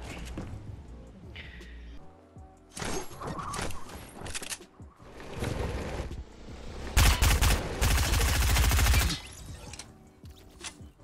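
Gunfire in Fortnite Battle Royale on PS4, loud bursts of rapid shots and a sustained barrage near the end, set among other game impacts and noise.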